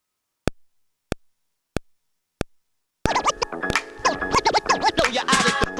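A record-scratch effect is sampled on an Akai MPC Sample in a hip-hop beat. Four evenly spaced short clicks come first, then a dense, loud burst of jittery back-and-forth scratching fills the rest.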